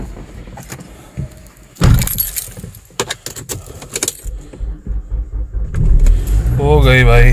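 A family car is started for a trip after luggage is loaded. Keys jangle and clatter with a few sharp knocks, then an engine cranks and catches into a rising idle near the end, with voices talking throughout.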